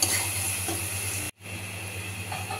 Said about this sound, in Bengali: এই যে পেঁয়াজ রসুনটা ভাজা ভাজা হয়ে এসেছে